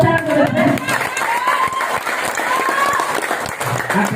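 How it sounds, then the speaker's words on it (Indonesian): Steady audience applause at a seminar-style gathering, dense and fairly loud, with some voices and cheering mixed into the clapping throughout. "Tepuk tangan PTBS."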